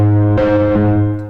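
A GarageBand instrument with the distortion effect applied plays a loud, gritty, buzzing tone, with two fresh note attacks struck in quick succession over a sustained harmonic drone and no talking.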